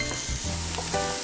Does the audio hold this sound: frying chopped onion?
yes